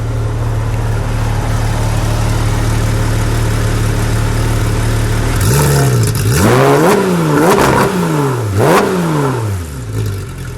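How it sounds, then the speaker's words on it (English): A 2016 Porsche GT3 RS with a naturally aspirated engine and long tube headers idles loudly, then revs repeatedly in sharp rising-and-falling bursts close by. "Give me one rev."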